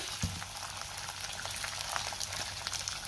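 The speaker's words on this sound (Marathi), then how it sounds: "कांदा आपण चांगला गुलाबी रंगावर परतून घेऊया" Quiet, crackling sizzle of chopped onion frying in two spoons of hot oil for kharda chicken, with scattered pops and a soft knock near the start.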